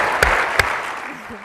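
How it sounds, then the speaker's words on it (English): An audience at a literary conversation breaks into applause, a short burst with a couple of sharp claps standing out, fading away within about a second and a half. "I'll clap for that"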